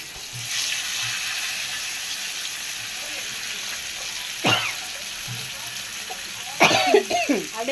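Fish pieces frying in hot oil in a home kitchen pan, a steady soft sizzle running throughout with a couple of brief sharp crackles or spatters near the end and faint voice sounds.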